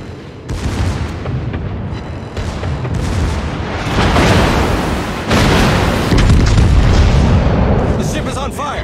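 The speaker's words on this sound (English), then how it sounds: "Fire on the enemy warship." Naval guns firing and shells exploding in a warship video game, heavy booms and blasts overlapping densely and loudly for the whole stretch, with rumbling impacts swelling midway and continuing to the end.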